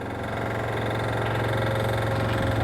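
Hydraulic ramp closing on a tri-axle drop deck widening trailer, a steady low mechanical drone and engine-like hum with faint vibration running continuously, slightly swelling, close by with no voices.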